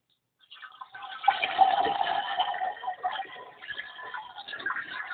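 A sugar and water mixture pours into an Italian ice machine, a steady close liquid splash and gurgle lasting several seconds.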